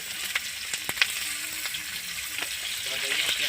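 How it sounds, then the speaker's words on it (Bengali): Fresh pond fish frying in oil with onion and green chili, a strong continuous sizzle broken by sharp clicks and taps of stirring. "পেঁয়াজ আর কাঁচামরিচ বেশি করে দিয়ে এই মাছগুলো ভাজি করব"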